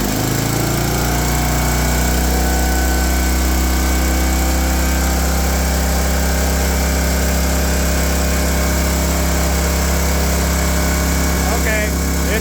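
An UltiMower lawn mower engine running steadily at about 1,000 RPM, a loud, continuous low drone with a throbbing hum that holds throughout, close to the listener.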